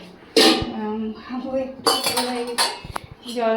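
A spoon stirs and scrapes through aloo posto, a potato and poppy seed curry cooked with ghee, in a pan, with uneven metallic clinks and scraping strokes up close and a voice speaking quietly at times.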